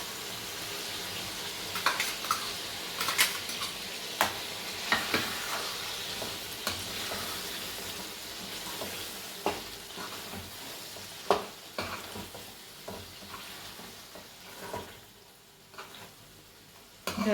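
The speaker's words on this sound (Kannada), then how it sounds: "ಎಣ್ಣೆಲೆ ಚೆನ್ನಾಗಿ ಫ್ರೈ ಆಗಬೇಕಿದು" Ground masala for chicken chops fries in oil in a pan, giving a soft, continuous sizzle broken by scattered clicks and scrapes of a spoon stirring it.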